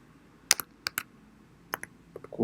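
Typing on a computer keyboard into a web browser: a few sharp key clicks in small bursts with pauses between them, close and fairly quiet, with no talking.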